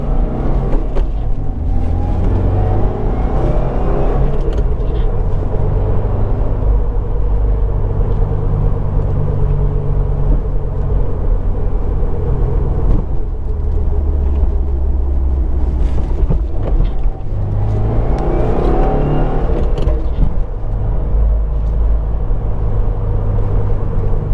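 A Subaru WRX engine heard from inside the car, a loud continuous drone that climbs in pitch as it accelerates, then dips and rises again around gear shifts, with wind and road rumble throughout.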